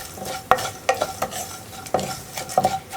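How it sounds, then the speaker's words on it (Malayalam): Dried shrimp being stirred in a hot pan, with sharp scraping strokes of a spatula against the metal over a soft sizzle, several distinct stirs in quick succession. "നമ്മൾ റെഡിയാക്കി വെച്ചിരിക്കുന്ന ഉണക്കച്ചെമ്മീൻ ചേർത്ത് നന്നായിട്ടൊന്ന് ഇളക്കി മിക്സ് ചെയ്യുക"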